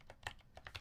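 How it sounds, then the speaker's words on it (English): Someone types on an HB60 Frog Mini mechanical computer keyboard in a quick, uneven run of soft clicks, close but quiet, with no speech. "Typing noises and random human noises."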